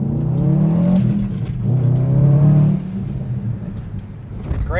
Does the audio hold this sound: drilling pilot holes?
no